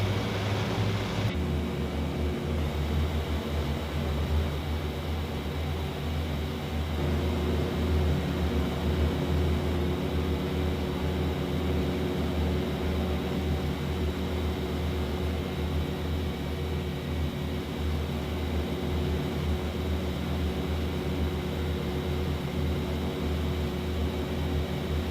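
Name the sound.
aircraft flying in the video game IL-2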